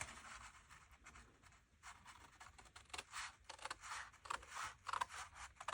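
Scissors snip through the paperboard of a milk-carton-style treat box in a series of close, crisp cuts, irregular in rhythm and growing denser toward the end, with no talking.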